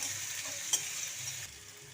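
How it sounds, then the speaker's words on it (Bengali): Chopped onions with green chilies and nigella seeds fry in hot oil in a wok, giving a steady close hiss of sizzling with one brief sharp clink partway through. "পেঁয়াজটাকে একটু ভালো করে ভেজে নেব।"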